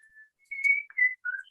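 Loud, clear whistled notes in a few bright phrases, a soft low start followed by three strong sustained whistles with brief gaps between them.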